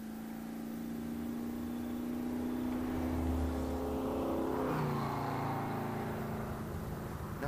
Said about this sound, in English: Sounds like a car engine.